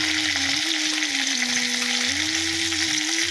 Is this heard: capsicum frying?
yes